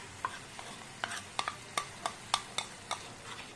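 Spice paste for an eggplant dish fries in a pan while being stirred, with a string of sharp spatula taps and scrapes over a faint, steady sizzle, near and fairly quiet.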